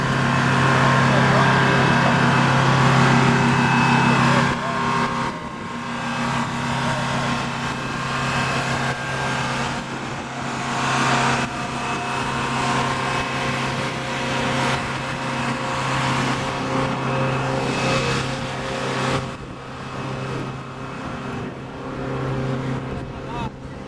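Car engines idle and rumble at a car cruise gathering, a steady mechanical hum with a low drone that continues for the whole stretch while people chat nearby.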